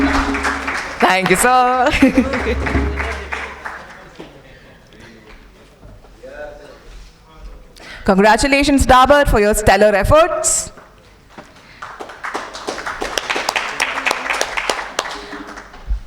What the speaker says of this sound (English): Can we have a huge round of applause for all the efforts that they put in?